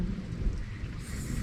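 Rain falling with low rumbling thunder, steady and fairly close, with a continuous wash of drops and a deep roll underneath, no voices.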